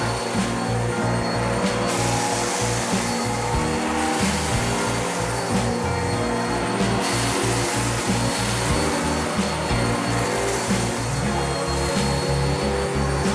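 A vacuum cleaner being pushed forwards and backwards over a large pile of dirt drones loudly and continuously, with a pulsing low thump as the head moves and occasional shifts in motor tone.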